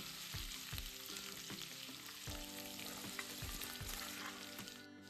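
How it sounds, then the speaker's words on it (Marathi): Paste of pounded garlic, ginger and cumin frying in hot oil: a continuous crackling sizzle, with a steady rhythm of spoon strokes scraping the pan close by. "ती टाकायची आणि याला छान मस्त लालसर होईपर्यंत परतायचं आपल्याला"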